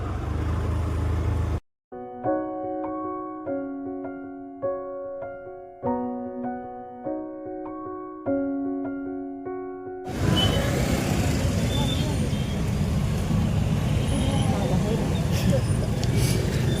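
Road traffic near a church feast of St Anthony: after a stretch of tonal music, a dense, steady rumble of passing vehicles rises and holds to the end.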